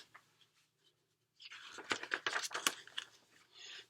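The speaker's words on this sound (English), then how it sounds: "Crunch went the matzah as Mr. Shapiro broke it in half" A sheet of matzah is snapped in half at a Passover Seder table, giving a quiet burst of dry crunching and cracking after a near-silent pause.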